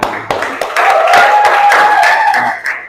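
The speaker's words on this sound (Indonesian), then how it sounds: "Tepuk tangan." A classroom audience claps together in a dense, sustained burst of hand claps lasting a few seconds, loud and close, with a few voices mixed in before it fades.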